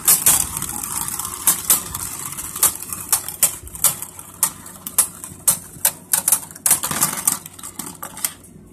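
Beyblade spinning tops clash in a stadium battle, with rapid sharp metallic clicks and ticks hitting in quick irregular bursts against a whirring hum, close and fairly loud.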